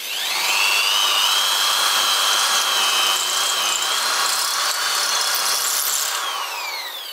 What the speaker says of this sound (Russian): Это я делаю фрезой, вращается фреза и наклоняется.